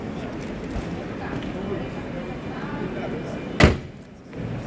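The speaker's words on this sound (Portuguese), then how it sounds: "Vamos só fechar aqui o capô deles." A car hood slams shut with one sharp, loud thud at an electric vehicle fair, following a stretch of busy crowd murmur and background noise.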